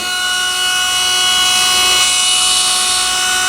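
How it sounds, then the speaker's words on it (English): A small Dremel rotary tool fitted with a felt wheel buffs a Petoskey stone, giving a continuous high-pitched whine with steady tonal hum, close and loud throughout with no voices. "And I'm just going to use a Dremel. I've got a little felt wheel on there."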